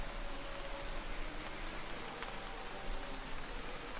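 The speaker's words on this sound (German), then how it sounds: "Jetzt hört der Regen sogar auf." Rain in the racing game Motorsport Manager, a soft, even hiss of falling rain, faint and constant without distinct drops.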